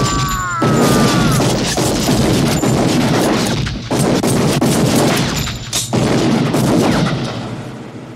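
Gunfire from the final duel in the action film Red Heat: a dense, loud stretch of repeated gunshots and booms over a rumbling film soundtrack, with sharp bangs near 0.6, 3.8 and 5.8 seconds.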